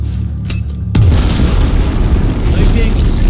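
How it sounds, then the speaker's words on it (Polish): A sudden loud explosion in the video game Battlefield 4 booms about a second in, followed by a sustained, heavy rumbling roar. "Uwaga, będzie wybuch!"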